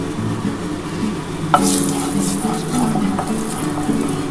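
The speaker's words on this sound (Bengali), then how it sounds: "আমি অল্প একটু এই যে সর্ষে ফোড়ন দিয়ে দিলাম" Mustard seeds dropped into hot mustard oil in a pan, starting a sudden loud sizzle that continues steadily, with faint crackles and occasional stirring clinks, close up and without speech.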